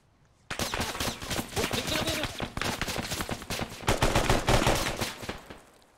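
Loud rapid bursts of automatic gunfire crackle almost nonstop after a brief silence, with dense overlapping shots and no talking.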